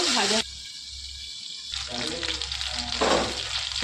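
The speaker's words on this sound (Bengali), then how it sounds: "এবার এই দিকটা ভেজে নেব।" Vetki fish sizzles in hot oil in a pan at home after being turned to fry the second side. The crackle is loud at first, briefly muffled, then returns in uneven bursts.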